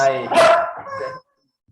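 Pet dogs barking indoors, a couple of sharp, close barks and yips in quick succession lasting about a second, then silence.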